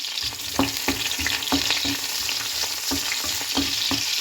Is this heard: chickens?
no